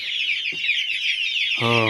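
A rooster gives a short, harmonic cluck near the end, close by, after a steady high-pitched whine fills the background.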